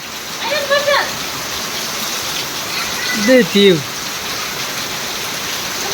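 Heavy rain pours down with gusting wind, a loud, dense hiss filling the whole stretch, while a voice speaks briefly twice over it.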